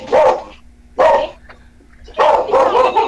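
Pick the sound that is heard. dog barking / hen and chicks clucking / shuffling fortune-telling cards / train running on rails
dog barking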